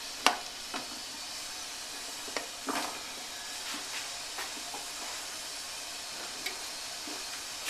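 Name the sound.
water gently boiling in canner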